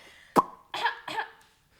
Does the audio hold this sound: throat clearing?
yes